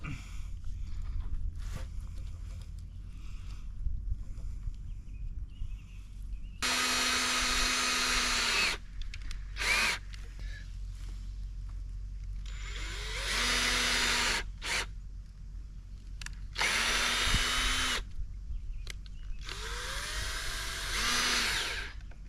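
A cordless drill drives 3-inch coated deck screws in several whirring bursts of about one to two seconds, close and loud, with quieter handling noise and background hum between the runs.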